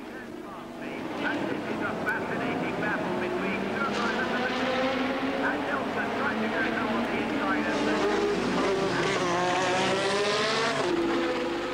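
Two Williams Formula 1 cars of the 1986 season racing wheel to wheel at Brands Hatch, a steady, loud engine drone with rising and falling pitch sweeps as they pass, running continuously under a commentator's voice.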